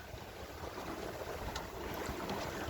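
A sailboat runs under spinnaker in a fresh breeze, steady broadband wind and water rush filling the whole stretch with a few faint creaks and splashes on top, no voices.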